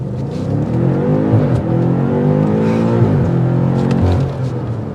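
Twin-turbo V8 of a 2023 BMW M5 Competition in sport mode pulling hard, a loud close engine roar climbing through the revs with brief dips at gear shifts, heard from inside the cabin.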